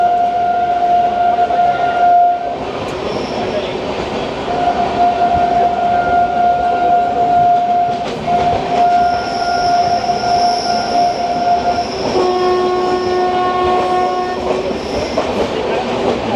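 Darjeeling Mail train overtaking the Hasnabad local train near Bidhannagar, a loud continuous rumble with long sustained horn blasts and clattering wheels heard from on board.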